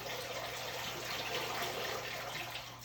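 Water streams falling from a solenoid-controlled waterfall display, a steady, even rushing and splashing wash that holds at moderate level throughout with no gaps and no talk.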